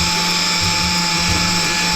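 Power tool shaving down plywood for a homemade DIY well pump handle, a continuous high-pitched whining drone at steady loudness, without speech.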